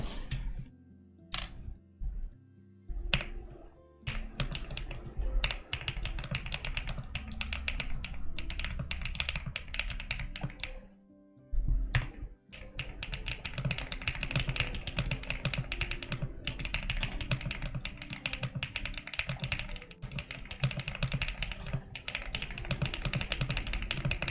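Typing on a new clicky keyboard, heard close up. It starts with a few scattered clicks, then turns to fast, dense clacking over soft background music.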